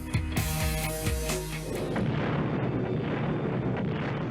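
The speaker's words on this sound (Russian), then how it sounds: "что происходит в первые секунды после одного единственного ядерного взрыва" Nuclear explosion sound effect: a heavy booming blast with rumbling low tones that gives way to a long, dense roar and crackling wash, loud and with no voices.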